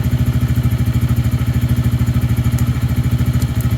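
A Lifan King motorcycle engine runs at idle nearby, a loud steady low thumping pulse with rapid even firing and faint clatter, no talking.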